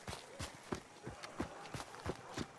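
Faint horse hooves in the video game Hunt: Showdown 1896 thud at an even, galloping rhythm in the distance, about eight soft beats with nothing else over them.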